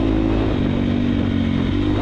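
A Triumph TF250X motocross bike's engine and exhaust drone steadily and loudly at close range, with a brief rise in pitch partway through.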